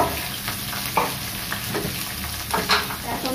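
Three large sliced onions frying in hot oil for a Bengali duck curry, a steady close sizzle with scraping stirs and brief louder spatters, no talk.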